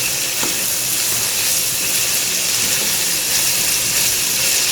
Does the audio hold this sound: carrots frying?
yes